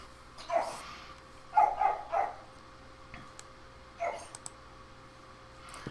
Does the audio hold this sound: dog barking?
yes